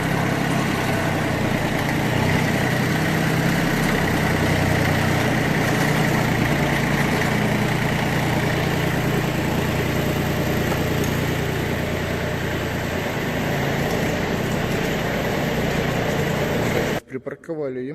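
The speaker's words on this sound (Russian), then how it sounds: "Трактор едет, не болтает." A Yanmar F14D Japanese mini tractor engine runs steadily while the tractor drives along, a loud continuous diesel drone that holds evenly throughout before cutting off abruptly near the end.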